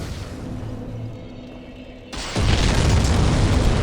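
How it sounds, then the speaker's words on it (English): A Dark Souls Remastered explosion near Sen's Fortress opens as a sudden loud roaring blast about halfway through and keeps rumbling, following a quieter stretch of game ambience. "Ignore that explosion."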